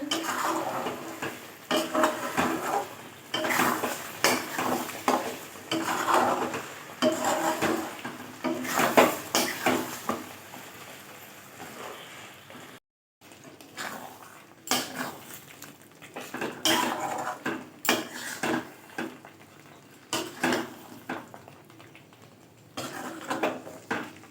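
Pieces of chicken frying with butter masala in a pan, a spatula clattering and scraping against the metal in busy, irregular bursts, close and fairly loud, with a brief break partway through.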